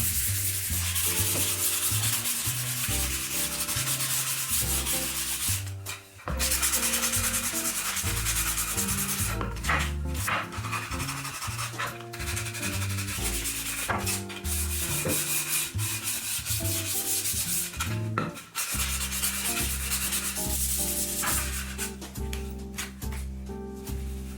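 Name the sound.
hand sanding a wooden garden sign with sandpaper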